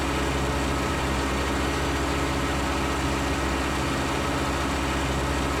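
A tracked tractor, a T8 with a big engine, idles steadily in Farm Sim 19, giving a constant, even low rumble with a dense mechanical drone and no change in speed.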